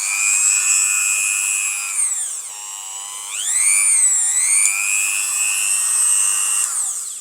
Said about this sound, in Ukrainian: гравер як гравер працює